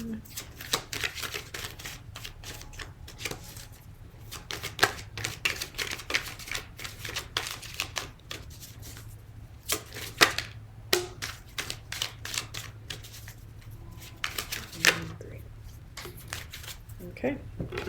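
Tarot cards shuffled steadily by hand at close range, a dense continuous riffling and flicking that runs throughout with brief pauses.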